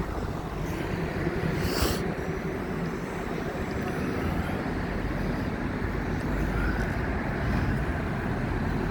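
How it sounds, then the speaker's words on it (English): A steady wash of street traffic on Bonny Street in Blackpool during the demolition of its market, a continuous distant roadway rumble with a brief passing swell. "Watch out for traffic"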